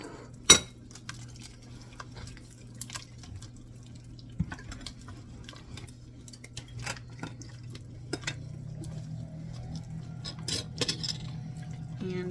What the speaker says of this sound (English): to this mixture, we're going to go ahead and add in our onions and get them cooked a little bit